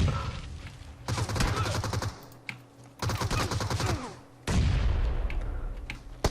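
Bombardment in a video game comes through as loud explosive bursts in three separate waves. Each wave is a dense, crackling barrage followed by brief quieter gaps.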